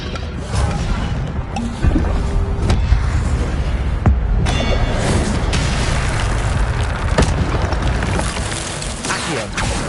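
A fire spell cast over and over in Hogwarts Legacy, with loud, dense blasts and crackling bursts piling up in quick succession through a constant roar of combat noise.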